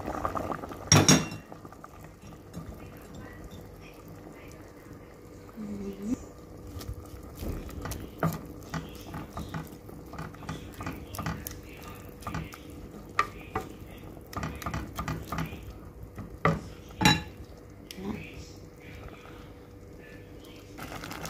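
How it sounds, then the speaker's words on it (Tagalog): String beans simmering in a pot of dinengdeng on a home stove, with a steady soft bubbling and low sizzle throughout, broken by occasional clinks and stirring sounds from a utensil. "kumulo na"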